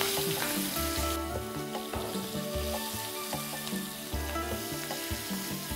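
Green chillies and karonda pieces sizzle and fry in a pan, with a steady crackle and stirring clinks throughout, loud and close, no talking.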